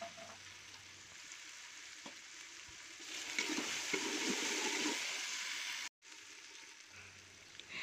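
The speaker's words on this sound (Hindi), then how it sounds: "लहसुन अदरक हरी मिर्च का पेस्ट डाल देते हैं और इसको भी साथ में फ्राई कर लेते हैं, अच्छे से मसाले को भून लेते हैं।" Garlic, ginger and green chili paste frying with masala in a pan, a quiet steady sizzle that swells louder midway with a few faint stirring knocks, then cuts out briefly before resuming.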